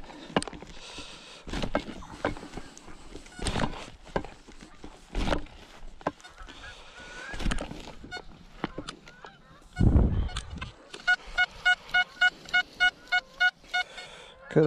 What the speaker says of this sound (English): Here come all the geese in the distance.